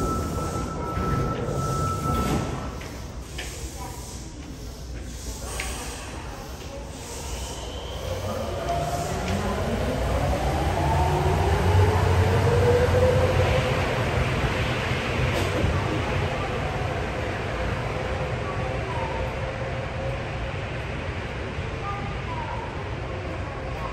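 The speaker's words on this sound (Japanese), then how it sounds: "2番ホームから回送車が発車します。" An out-of-service train pulls away from platform 2 at Asabu Station on the Sapporo subway, a rising rumble with wheel whine building then easing, after a brief announcement voice.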